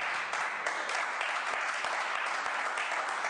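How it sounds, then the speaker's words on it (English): Scattered clapping from attendees at a state senate select committee hearing on high-speed rail procurement, a steady patter of applause heard on its own at moderate distance for a few seconds. "Is that what the clap is about?"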